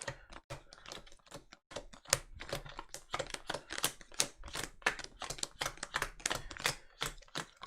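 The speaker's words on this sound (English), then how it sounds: "We got to shuffle our decks." Skytear game card decks being shuffled, a dense run of crisp, rapid clicking and riffling snaps close by, steady and continuous with no talk.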